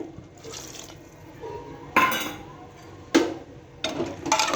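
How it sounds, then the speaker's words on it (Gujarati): A few sharp clinks of metal cookware, with water splashing and pouring into a pot of simmering potato curry in short bursts, close by. "હવે આપણે તેમાં થોડું પાણી એડ કરી દઈએ"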